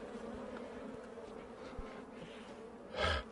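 Bees swarming close around a man's face and forehead give a soft buzzing hum against outdoor air, with a brief louder burst of breath or buzz near the end.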